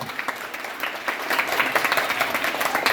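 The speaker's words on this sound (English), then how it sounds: "everyone, please give him a big round of applause" Students applaud a newly elected class captain at a school representative results announcement, a steady mass of clapping that builds and sustains across the clip, fairly close and dense.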